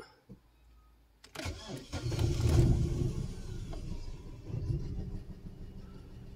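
An Opel car's engine cranks briefly and catches, then settles into a steady, slightly sputtering idle that rumbles low and close for several seconds.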